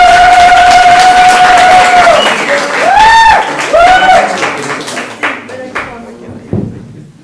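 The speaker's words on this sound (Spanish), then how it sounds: "a quien recibimos con mucha gratitud y con un gran aplauso" Warm applause greets the host at a poetry house reading; loud clapping starts over a lingering sustained tone and whistling feedback, then thins out and fades toward the end.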